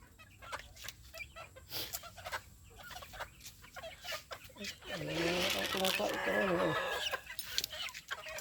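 Chickens cluck and a rooster crows nearby, with scattered clucks and rustling throughout before a longer, louder crow in the middle.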